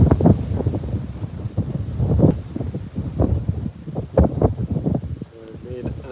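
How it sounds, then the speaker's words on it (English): Strong wind gusting outdoors around a rocket stove, buffeting the microphone in rough low rumbles and bursts, with a voice speaking intermittently over it. "today it's so dang windy"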